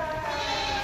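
A young goat kid at Deonar goat market lets out a short, strained bleat, close and clear over a low market hum.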